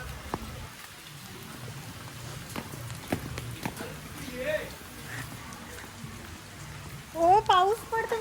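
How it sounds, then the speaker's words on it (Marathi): Rain falls steadily at a farmhouse as a soft, continuous patter under people talking. "ओ पाऊस पडतो मी छत्री का नाही घेतली"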